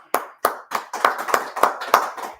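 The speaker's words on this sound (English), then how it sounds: "close out the class, clap it up" About eight sharp hand claps from a class at a steady, even pace, loud and close with brief gaps between them.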